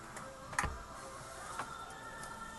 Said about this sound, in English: There's a Dremel tool.